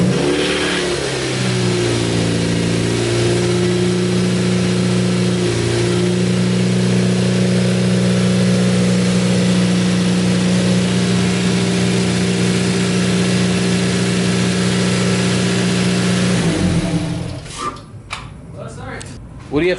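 Subaru WRX engine fitted with a front-mount intercooler and TGV deletes starting for the first time after modifications, then running at a steady loud idle with revving for about fifteen seconds before shutting off, with people talking nearby.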